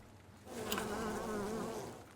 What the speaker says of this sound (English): which is covered in bees.